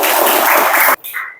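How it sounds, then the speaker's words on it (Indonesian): Classroom applause from students at an Islamic jurisprudence (fikih) lesson: a dense, loud burst of many hands clapping that stops abruptly, followed by a brief faint tail. "tepuk tangan"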